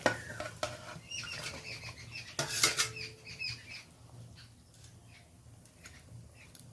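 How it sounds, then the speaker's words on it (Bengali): Fried fish pieces go into a simmering curry in a pan, with clinks and scrapes of a utensil against the pan and soft splashy bubbling, fairly quiet and close, no talking. "এবার আমি সমস্ত ভেজে রাখা মাছগুলো দিয়ে দিচ্ছি।"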